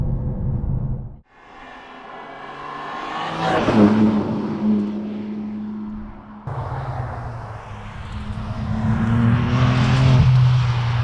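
A BMW M2 G87 engine revs hard toward redline, its rising howl climbing in pitch, dropping briefly at a shift, then climbing again to the limiter; loud and close, with no talking.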